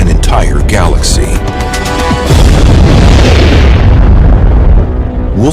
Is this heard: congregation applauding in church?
no